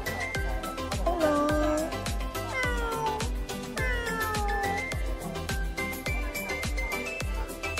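Several cats meow repeatedly at the Thailand International Pet Variety Exhibition in Bangkok, with clear, close, rising and falling cries over a steady rhythmic beat of background music.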